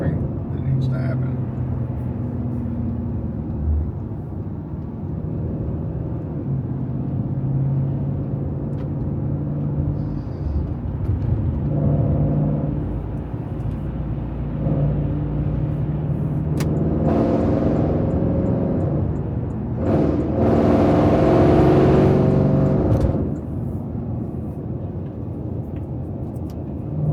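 A car drives through traffic on a commute, with steady low engine and road rumble throughout and a person talking over it; a brief louder whoosh of passing traffic rises near the end.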